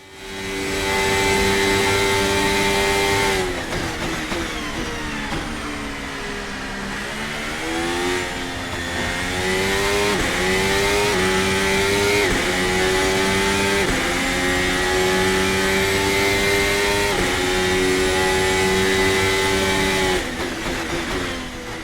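A VRC Formula Alpha 2025 formula racing car engine in a racing simulator screams continuously, its pitch climbing through repeated gear shifts with brief dips between them, loud and close throughout.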